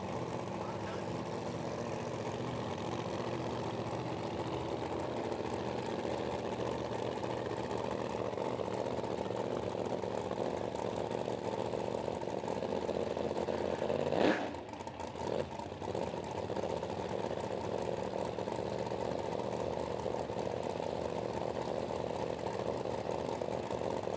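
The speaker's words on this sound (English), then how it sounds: "We've got something on a dyno." At a drag racing event, a car engine runs steadily on a dyno, a continuous mid-pitched mechanical drone heard from a distance, with a brief sharp rise partway through and voices faintly in the background.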